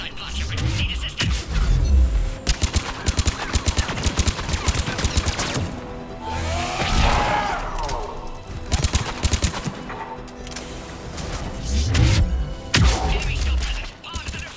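Heavy automatic gunfire from a firefight in the sci-fi shooter Mass Effect 3, with rapid bursts and single shots cracking loudly throughout, broken by brief lulls and mixed with voices and impacts.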